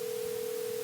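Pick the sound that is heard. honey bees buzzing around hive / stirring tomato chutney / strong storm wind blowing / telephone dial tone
telephone dial tone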